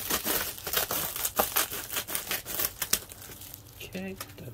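Crinkly plastic packaging around Honda parts is torn open, giving a run of sharp rustling and crackling bursts up close, ending in a short low vocal sound.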